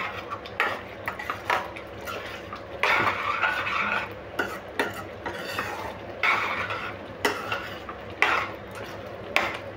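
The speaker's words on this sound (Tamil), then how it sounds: "நல்லா கிளறி கொடுத்துக்கோங்க." A spoon stirs tomato, onion and garlic pickle in a metal pan, giving repeated scraping strokes and clinks in an irregular rhythm close up, with only a faint sizzle underneath.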